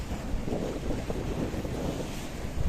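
Big waves surging onto the shore along the Paphos promenade in Cyprus during rain, a steady, loud wash of surf mixed with heavy wind buffeting the microphone throughout.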